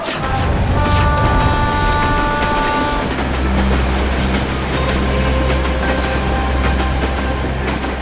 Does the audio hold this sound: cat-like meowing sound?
no